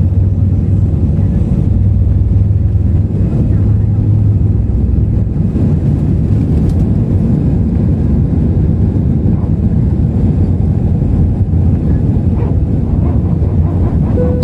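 Steady, loud cabin roar inside an airliner flying through thick clouds, a constant low rumble and whoosh throughout with no breaks.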